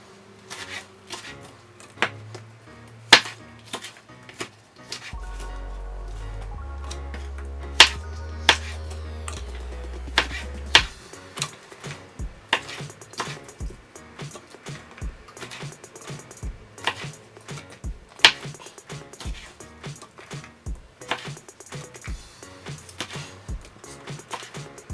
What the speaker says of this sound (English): Just chopping them in smaller pieces.